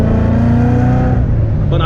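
A loud, close engine roar from a boosted Ford Coyote-engined race car, a swap car, held at a steady drone under gentle throttle, with a voice talking over it.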